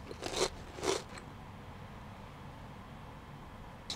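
Two crisp crunches of biting into round, crunchy edamame chips from a Japanese 7-Eleven, close and fairly quiet, followed by faint background hiss.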